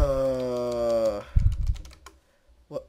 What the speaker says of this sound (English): And lots of typing.